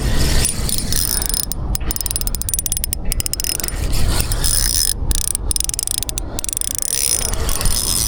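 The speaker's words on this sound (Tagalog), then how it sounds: "nakaset yung drag natin na sakto lang na kayang hilain ng isda" A fishing reel's drag and spool give off quick ratcheting clicks in short bursts and rapid runs, close and fairly loud over a constant background hiss.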